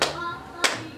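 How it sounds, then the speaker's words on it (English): A child clapping hands while decorating a Christmas tree at home, two separate sharp claps spaced about half a second apart, close and quiet. "Clap your hands."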